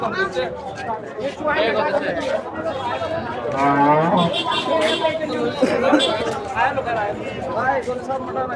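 Cattle moo loudly amid a busy crowd, with people chattering around them in a noisy outdoor cattle market in Sagarika, Bangladesh.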